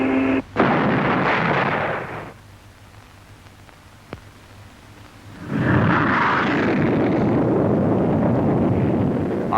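A jet fighter in a supersonic dive at the 1950 Farnborough air show, a heavy rumbling roar with a sharp boom-like burst early on, easing off and then swelling back into a loud, wind-buffeted roar.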